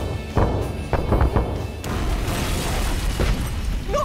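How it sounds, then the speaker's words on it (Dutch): A cartoon controlled demolition with explosives sets off a sharp boom and crash of collapsing debris, followed by a long rumbling roar of falling rubble that fills the scene loudly. "een gecontroleerde vernietiging met behulp van explosieven"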